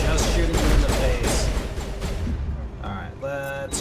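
Rapid gunfire in Mass Effect, a dense burst of shots and thuds followed by sharper electronic weapon sounds near the end, mixed with voices.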